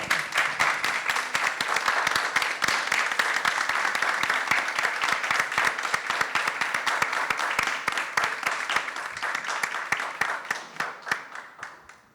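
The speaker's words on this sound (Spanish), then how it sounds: "los invito a todos a, bueno, un aplauso." Audience applause at a book presentation on reproductive medicine: steady, dense clapping from a crowd for about twelve seconds, fading at the end.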